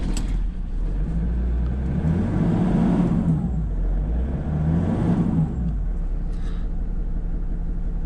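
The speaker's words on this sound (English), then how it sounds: "So I'll start her up." 1992 Toyota Land Cruiser 80 Series with a reconditioned turbo engine running steadily after start-up, a loud continuous rumble rising and falling through two rev swells, with a brief faint click near the end.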